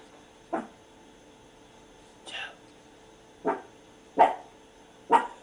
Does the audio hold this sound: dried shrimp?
no